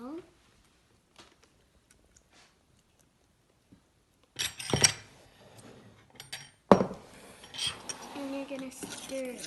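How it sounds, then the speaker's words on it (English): Milk is stirred into pancake mix in a bowl, heard as close clinking and scraping of a utensil against the dish. It follows a near-silent stretch with faint taps, and a voice speaks over the later stirring. "And you're going to stir it."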